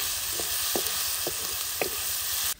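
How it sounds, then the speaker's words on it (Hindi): Chopped garlic frying in oil in a karahi for garlic chicken karahi gives a constant close sizzle, broken by a few regular soft scrapes of a stirring spoon. "लहसुन को भी थोड़ी देर के लिए फ्राई करेंगे।"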